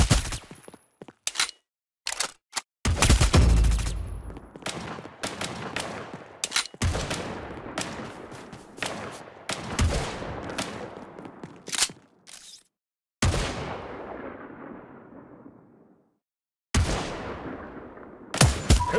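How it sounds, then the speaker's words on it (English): Incoming bombardment in the mobile shooter Omega Legends, a scattered run of sharp gun bursts and heavier blasts, some ringing out and decaying, separated by abrupt silences. "A new lead player has an incoming bombardment."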